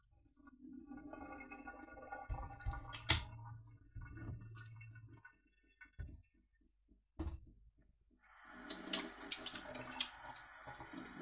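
Hands washed under a running tap at home after eating fried rice, water splashing in uneven bursts with brief pauses, then a steadier broadband rush near the end, close and moderately loud.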